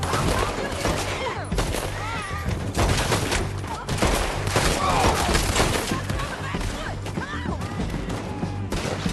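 Gunfire rings out in a Red Dead Redemption 2 town gunfight: repeated loud, sharp shots, some in quick bursts and some spaced apart, mixed with shouted character dialogue throughout.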